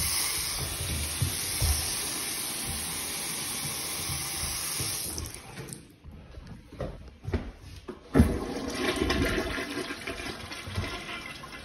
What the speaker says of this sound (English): I flushed the toilet.